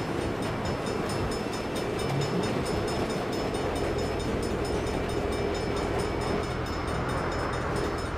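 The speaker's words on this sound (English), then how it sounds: "Bad time for a train." A train in the video game Saints Row (2022) rumbles past in a dense, continuous roar with rattling wheels and metallic clatter, loud and close throughout with no pause.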